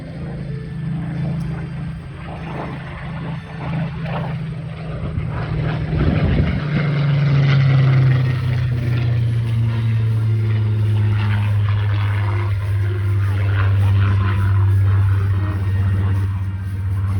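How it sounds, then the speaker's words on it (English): Supermarine Spitfire WWII fighter plane making a topside pass at an air display, a steady loud propeller engine drone that swells and shifts in pitch as it passes, with no talk. "We're going to get another pass by that Supermarine Spitfire."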